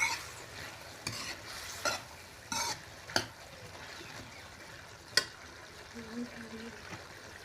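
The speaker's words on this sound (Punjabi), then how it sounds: "ਸਬਜ਼ੀ ਆਪਣੀ ਰਿੱਜ ਰਹੀ ਹੈ ਜੀ ਆਪਾਂ ਜੀ ਵਿੱਚ ਇੱਕ ਦੋ ਵਾਰੀ ਸਬਜ਼ੀ ਨੂੰ ਹਿਲਾਉਂਦੇ ਰਹਾਂਗੇ" A spoon or spatula stirs a curry of parwal, carrot, potato and peas in a pan, giving a few sharp scrapes and knocks over a quiet, steady low sizzle.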